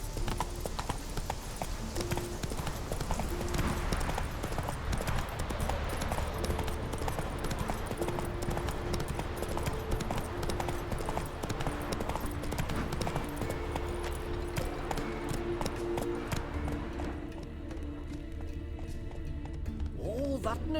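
In The Witcher 3, a horse gallops with a rapid, steady clip-clop of hooves, close and continuous, while a voice speaks intermittently over the gameplay sound.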